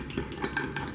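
Gravy stirred into a pan of sausages during home dinner cooking, heard as a few spaced scrapes and clinks of a utensil against the pan, close and moderately loud with no talking.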